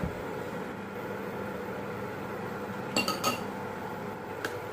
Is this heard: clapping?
no